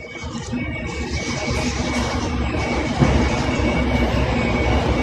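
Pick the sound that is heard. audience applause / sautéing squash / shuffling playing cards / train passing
train passing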